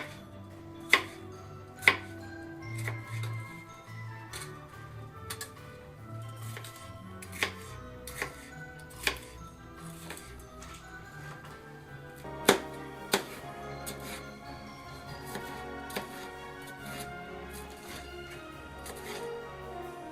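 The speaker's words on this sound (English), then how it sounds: "We're going to slice up the red pepper now too, again into strips." A knife slices a red pepper into strips on a cutting board, with sharp, spaced chopping taps against the board, some louder than others, in an otherwise quiet kitchen.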